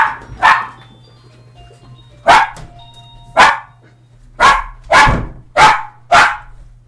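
A dog barks repeatedly, seven loud sharp barks in an uneven rhythm, close by, with a steady low hum underneath and no talking.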